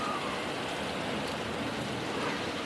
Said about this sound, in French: c'est surtout de la pluie maintenant